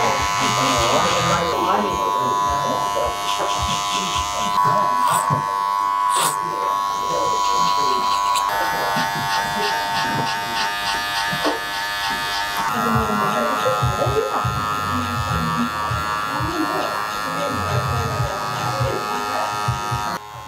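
Electric hair clippers with a clipper comb buzz steadily through a textured fringe fade on Asian men's hair, a continuous close hum with shifting pitch as the blade works, under light background talk.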